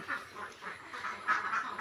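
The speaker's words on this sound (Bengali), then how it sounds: "এই যে আমাদের হাঁসগুলো আপনারা দেখতে পাচ্ছেন" Several ducks quack in quick repeated bursts, close by and fairly loud, with no talking.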